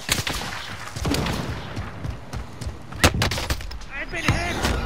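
Rapid gunfire in Call of Duty: Modern Warfare from a rocky firefight, sharp cracks and booms in quick succession, some near and loud, with voices shouting amid the shots.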